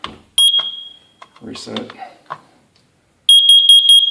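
A home smoke detector being tested gives shrill, high-pitched beeps: one long tone, then a rapid run of short repeated beeps near the end, with a person speaking briefly in between.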